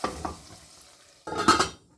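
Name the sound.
tadka tempering sizzling as it is added to mung masoor dal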